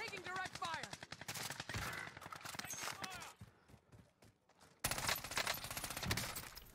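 Rapid gunfire crackles in the video game Warzone, with dense automatic bursts that pause briefly and then resume loudly, heard under intermittent voices.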